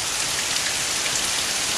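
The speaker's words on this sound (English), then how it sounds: "Little thunderstorm going, but not a hint of a breeze or anything. Usually when it rains real hard like this" Steady, dense rain pours down during a small thunderstorm, a constant loud hiss of drops with no wind and no voices.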